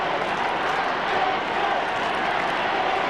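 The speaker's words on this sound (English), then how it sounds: "Crowd trying to get involved" A crowd of over 37,000 at an Australian football match between the Kangaroos and Fremantle in 2004 gives off a dense, steady roar, loud and continuous, with no distinct voice standing out.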